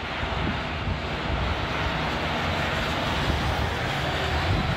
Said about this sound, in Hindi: अच्छा ऊपर हेलीकॉप्टर भी है,